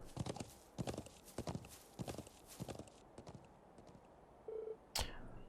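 Horse hooves clip-clop in a steady trotting rhythm in the Trails of Cold Steel IV video game, followed by a short synthetic tone and a sharp high accent near the end, all fairly faint.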